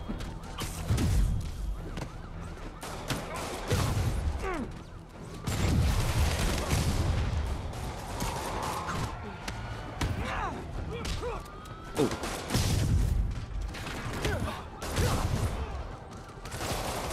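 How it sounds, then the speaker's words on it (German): Bursts of rapid gunfire and heavy thuds repeat throughout the game Spider-Man (2018), mixed with explosions and busy game-like effects, with voices talking over the action. "die knallen ihre eigenen Leute ab hier"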